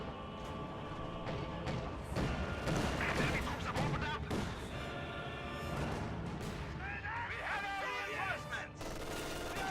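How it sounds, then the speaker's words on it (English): Battle in a WWII strategy game: a steady fusillade of small-arms gunfire mixed with heavier anti-tank gun shots and thuds, dense and continuous throughout, with some voices underneath. "AT gun set up behind the church, gets a shot off through the hedge."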